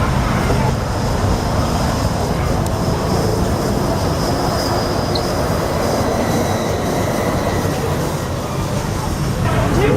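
A Disneyland Railroad train rolls along in the evening with a steady low rumble, faint wheel squeal and a continuous rail clatter. A faint voice may sit beneath the noise.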